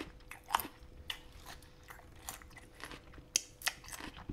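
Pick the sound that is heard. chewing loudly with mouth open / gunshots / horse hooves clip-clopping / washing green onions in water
chewing loudly with mouth open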